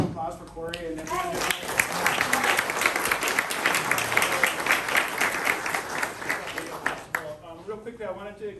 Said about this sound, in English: So, how about a round of applause for Corey and everyone?